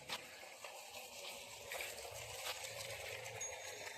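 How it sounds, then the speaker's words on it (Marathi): Water pours steadily from an automatic motor pump on a village farm, a faint, continuous splashing and trickling with scattered small clinks. "मोटर चालू आहे का नाही पाणी पडून राहिलं आपण हे ऑटोमॅटिक पाणी पडतंय"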